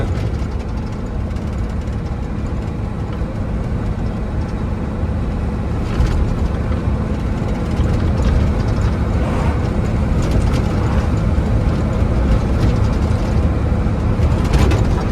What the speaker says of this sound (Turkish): Arabanın her yeri zırıl zırıl gene, gene ötüyor